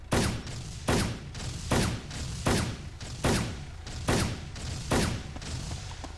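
Repeated gunfire in a video game fight, heavy bursts landing roughly every 0.8 seconds in a steady rhythm, loud and close, each with a booming low thump and a bright crack.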